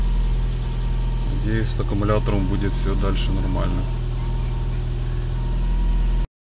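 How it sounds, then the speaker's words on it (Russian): A Ford car engine idles steadily just after starting, a constant low hum under a man's speech, then continuing alone before cutting off abruptly. "Все, в принципе, машина завелась, это хорошо. Сейчас прогреется немного."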